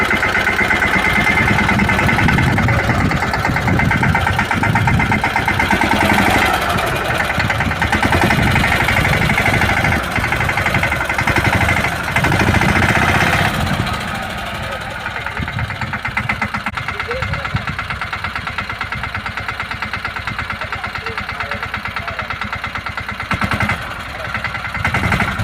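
A tractor engine runs steadily while being driven through farm fields, a continuous close mechanical drone with knocking texture that softens partway through, while people talk over it.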